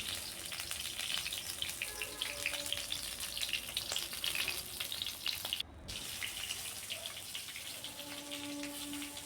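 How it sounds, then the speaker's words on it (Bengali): Spice-stuffed brinjals fry in a pan with a dense, even sizzle and crackle. The sizzle drops briefly as they are turned, then carries on steadily at close range with no talking. "একটু উল্টে পাল্টে বেগুনগুলো ভাজছি।"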